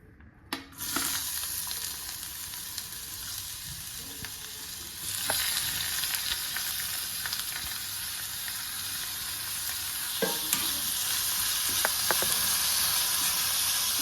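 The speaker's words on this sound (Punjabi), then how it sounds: "ਘਿਓ ਆਪਣਾ ਗਰਮ ਹੋ ਗਿਆ ਜੀ ਹੁਣ ਆਪਾਂ ਇਹਦੇ ਵਿੱਚ ਬਰੀਕ ਕੱਟੇ ਹੋਏ ਪਿਆਜ਼ ਟਮਾਟਰ ਤੇ ਹਰੀ ਮਿਰਚ ਪਾ ਦਾਂਗੇ" Finely chopped onion, tomato and green chilli drop into hot ghee for a masala omelette, setting off a sudden loud sizzle that keeps hissing steadily. Occasional spoon scrapes and knocks come through up close, with no voices.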